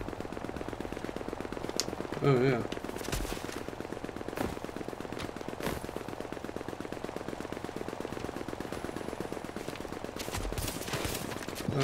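Distant rapid gunfire from other players in The Division, steady automatic bursts rattling continuously in the background at low volume, with a brief spoken remark partway through.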